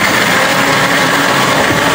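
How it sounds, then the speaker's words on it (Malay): A blender grinds soaked cashews together with yogurt for a black pepper yogurt curry, giving a loud, steady, whirring roar without pause. "kita nak kisar gajus bersama dengan yogurt"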